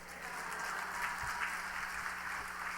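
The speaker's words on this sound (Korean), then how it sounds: "우리 목사님 나오실 때 할렐루야와 박수로 환영하시겠습니다." A church congregation at a Wednesday evening service applauds to welcome the pastor, a sustained wash of clapping from the whole room heard at a moderate distance.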